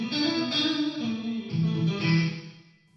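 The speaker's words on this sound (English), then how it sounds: "So maybe let's try a plate on here with this clean sound." A clean electric guitar played through a Lexicon MPX G2 plate reverb rings out in sustained chords and notes, close and moderately loud, with a shimmering wash that fades at the end.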